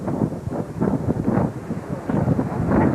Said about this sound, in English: Very windy here today.